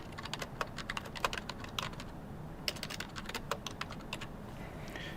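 Typing on a computer keyboard, fairly quiet and close. Irregular bursts of key clicks run through the clip, with short pauses between them. No one speaks.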